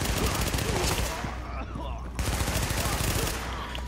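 Hip-fire bursts in Tom Clancy's The Division, loud and dense automatic gunfire rattling almost continuously with a brief lull mid-way, mixed with voices talking over it.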